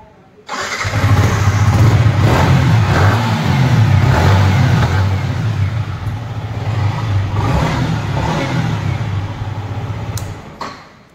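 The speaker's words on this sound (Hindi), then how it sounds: "सो ये इसका एग्जॉस्ट साउंड जो कि काफ़ी सही है" A Yamaha MT15 V2 motorcycle in neutral starts up and settles into a steady, loud, close exhaust note with a deep low rumble that holds for about ten seconds before cutting off.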